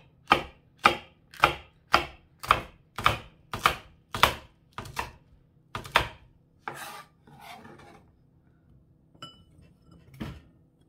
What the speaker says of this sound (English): you chop up the vegetables